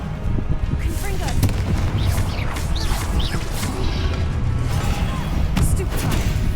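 A Confringo spell explosion in a Hogwarts video game: several booming blasts and crackling impacts in quick succession over busy game effects, with a voice speaking intermittently.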